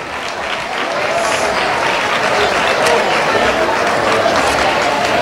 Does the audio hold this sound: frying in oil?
no